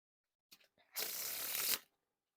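A deck of fuchsia Bicycle Rider back playing cards is spread into a giant fan, a soft brief rustle followed by one quick, crisp riffling sweep of card edges, close and clear in a quiet room.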